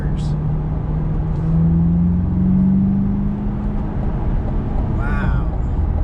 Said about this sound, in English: the fact that the engine's right behind you just helps, so you can hear that exhaust too, or that engine note rather